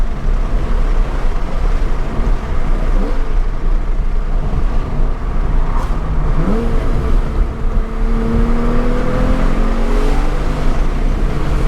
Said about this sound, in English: Man, this car sounds good.